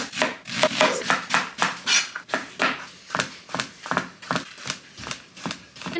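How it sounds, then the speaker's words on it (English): Knife chopping ingredients for chicken thigh lunch bowls on a cutting board, a run of quick, close, sharp taps in an uneven rhythm, each with a short scraping rub, no voices. "So I'm just gonna get to chopping."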